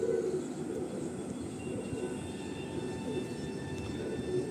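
Madrasi pigeons in a Kolkata loft giving soft, low repeated coos over a steady background hum, faint and continuous, with no talk.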